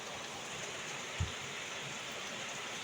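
Heavy rain pours steadily as a constant hiss indoors, with water dripping through onto a fish tank and plants, plus a single low thud partway through.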